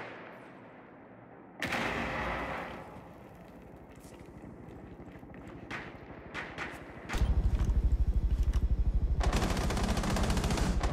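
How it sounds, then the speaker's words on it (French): A gun fires many rounds: a loud opening blast and scattered shots, then a long, rapid, steady automatic burst that keeps going to the end, close and loud. "il est en train de tirer 50 balles là"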